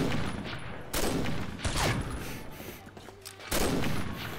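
Bursts of gunfire from the online shooter game Combat Arms, with several loud volleys at about one-second spacing and continuous rattling shots between them, all close and dense.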